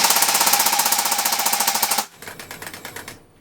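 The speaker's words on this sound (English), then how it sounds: "It is literally full auto only, which is quite cool. So yeah, full auto shooting only." A Novritsch SSR249 airsoft light machine gun fires a long full-auto burst, a loud, fast, steady mechanical rattle lasting about two seconds, then a softer, quicker whirring chatter before stopping.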